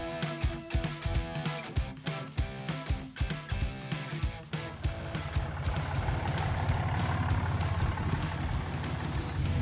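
A pickup truck's engine gives a series of rhythmic low thumps, then settles into a continuous droning hum as it pulls away and drives on, with no talking.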